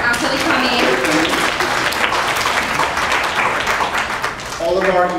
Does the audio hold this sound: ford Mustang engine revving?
no